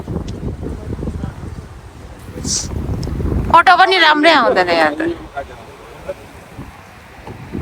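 Strong gusting wind at Memorial Park in Newcastle, buffeting the microphone in heavy low roaring bursts during the first few seconds, then easing as a person talks close by.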